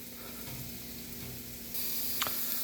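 Broccoli frying in a pan gives a steady close sizzle that grows brighter and louder partway through, with a few soft clinks and stirring sounds.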